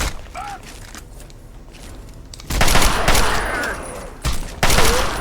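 Gunfire in the video game Fallout 3, with loud bursts of rapid automatic shots in two separate stretches after a quieter opening.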